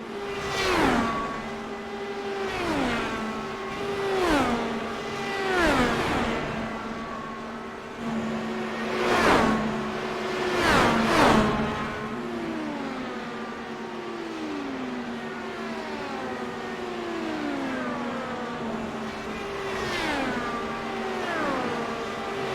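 IndyCar race cars lapping an oval in a racing video game: a steady run of engine whines that rise and fall sharply as cars pass close by, one after another, with a constant drone underneath.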